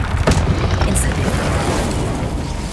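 Incendio fire spell cast in Hogwarts Legacy, a loud booming burst of flame with a low rumbling roar that holds steady for a few seconds.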